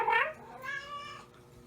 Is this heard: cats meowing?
yes